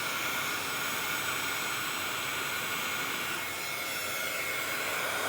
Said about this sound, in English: So here I'm going to heat it up again.